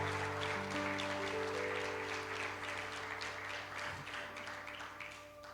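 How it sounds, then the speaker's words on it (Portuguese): Congregation applause during an evangelical church sermon, a steady wash of clapping over sustained organ or keyboard chords, fairly distant and continuous throughout. "Você pode aplaudir Jesus por isso?"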